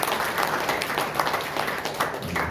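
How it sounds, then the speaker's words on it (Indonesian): A church congregation at Sunday worship claps together in a dense, continuous burst of applause with no pause. "tepuk tangan dulu buat Tuhan."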